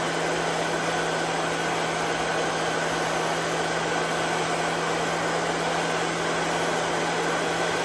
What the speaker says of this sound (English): Turn my heat gun back on.